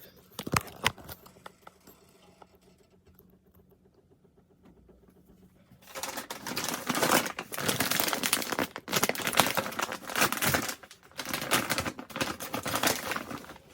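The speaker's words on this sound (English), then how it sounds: "I'm going to open my bag shrimp" A bag of shrimp being opened: faint clicks at first, then several seconds of loud, close plastic crinkling and rustling as the bag is handled.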